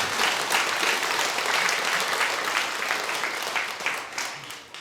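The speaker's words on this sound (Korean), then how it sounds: "우리 하나님께 큰 영광의 박수 한번 드리겠습니다." A church congregation claps during a Sunday worship service in Korea, a loud, sustained roar of many hands filling the room before easing slightly at the close.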